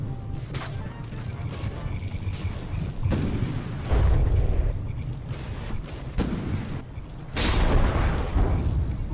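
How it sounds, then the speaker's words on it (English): Artillery shells slam into a frigate's gun shield and turret in a From the Depths naval battle: repeated heavy booming impacts with rumbling blasts, loud and close, with no talk. "the gun shield just took a hit, big chunk blown out of it."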